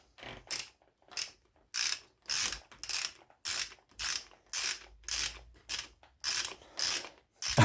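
A ratchet wrench tightens a square taper bicycle bottom bracket, a run of sharp clicking bursts in a regular back-and-forth rhythm, each stroke separated by brief pauses, loud and close with no talk.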